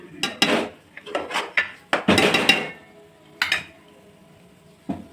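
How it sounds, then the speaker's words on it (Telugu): Fish being cut into wide pieces in a home kitchen, a series of sharp knife chops and clatters on a board or plate, fairly close and irregular, with no talking. "ఎడల్పు చేసి చేప ముక్కలు ఎడతాను చూడు"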